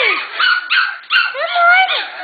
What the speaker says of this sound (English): Puppies. Where's my puppies?